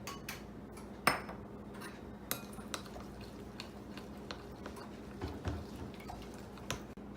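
A spoon clinks and scrapes in a bowl while stirring pecans into a caramel and flour mixture, with scattered sharp taps over a quiet background.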